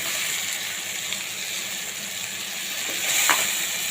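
Eggplant added to softened tomatoes sizzles steadily in a hot pan, a soft continuous frying hiss with a brief stir or scrape near the end.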